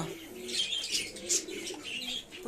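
Pigeons, including local Giribaj birds, coo in breeding cages during the rainy season, several soft, rolling coos rising and falling close by, with faint chirps among them.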